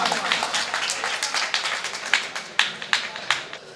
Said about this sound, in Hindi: जोरदार तालियों के साथ इनका स्वागत।